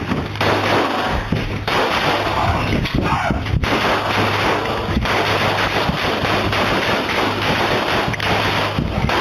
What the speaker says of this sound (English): Pendleton leans from his bedroom door and initiates another gunfight